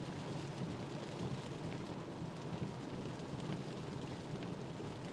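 Steady, heavy rain pours during a storm chase in Kansas with a conditional tornado threat, a dense unbroken hiss with low rumbling underneath and no voices.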